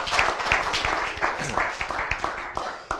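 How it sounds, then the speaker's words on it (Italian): Scattered audience clapping at a motocross event, uneven and fairly close, with distinct individual claps and some murmuring voices mixed in. "un applauso, un applauso"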